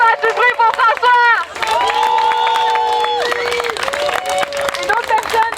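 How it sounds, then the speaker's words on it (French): Crowd at a youth sit-in protest in Montreal cheering, whooping and clapping for a man named François, loud and close, with shouted voices and scattered applause throughout. "On peut l'applaudir, faire du bruit pour François."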